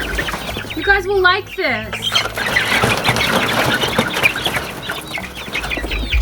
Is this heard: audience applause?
no